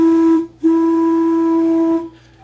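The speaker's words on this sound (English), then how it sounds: "Old steam locomotive that's on static display. They still have the train whistle working." Whistle of an old steam locomotive on static display sounds twice, a short steady blast and then a longer sustained one, loud and near, with a faint echo as it stops.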